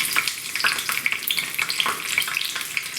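Garlic fries in about two spoons of hot oil for a mango dal tempering, giving a close, steady sizzle dotted with sharp crackles and pops.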